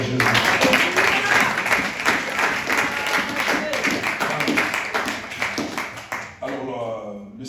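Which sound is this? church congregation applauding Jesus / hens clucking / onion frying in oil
church congregation applauding Jesus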